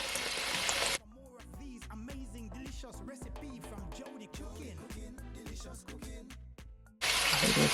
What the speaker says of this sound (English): I'm gonna add some water from my kettle.